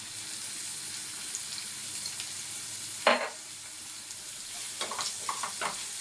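Onions frying in a pan for tomato dosa, a steady hiss of sizzling oil broken by a few sharp scrapes and stirring clatters near the end.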